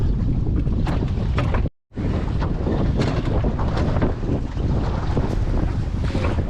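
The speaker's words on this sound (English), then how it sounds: "Waves are building" Sailboat beating upwind in a force four with force five gusts as the waves build, loud wind buffeting the microphone over rushing water and hull splashes, broken by one brief silent gap.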